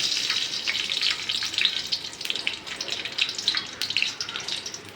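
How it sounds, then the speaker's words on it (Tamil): Mustard seeds in hot oil, a continuous close crackling sizzle with bright popping spatters throughout, steady and fairly loud with no talking. "எண்ணெய் ஊற்றி வச்சு கடுகு கொஞ்சம் போட்டுக்கலாம்"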